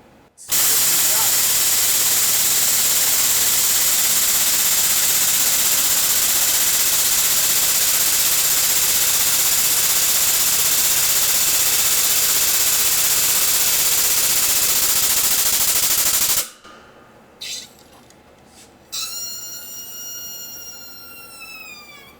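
A finger brake bends 1/8 by 2 inch steel flat bar, marked by a long, loud, steady hiss that cuts off abruptly, followed by a few sharp clanks and a ringing metallic tone.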